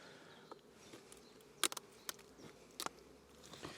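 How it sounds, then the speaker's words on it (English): Honeybees flying in and out at the entrance of a hive in an early spring apiary, a faint continuous buzz with a few brief louder passes of individual bees close by. "there's a good passage of bees coming and going"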